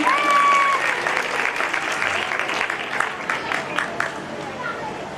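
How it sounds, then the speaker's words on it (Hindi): An audience applauds a quiz team, a loud burst of many hands clapping with crowd chatter underneath, tapering gradually after a strong start. "जोरदार ताली हो जाए इनके लिए"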